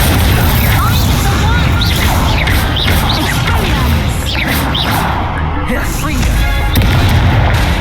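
Fire spells cast over and over in combat in the Hogwarts Legacy video game, with repeated loud whooshing, crackling bursts and impacts over a steady, dense mix of game effects and music, with a voice calling out spell names.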